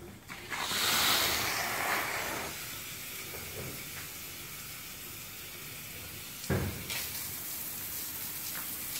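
Water hisses out of the shower head of a homemade dog-bathing device, a broad close spray that is loudest at the start, eases to a steady rush and surges again briefly near the end.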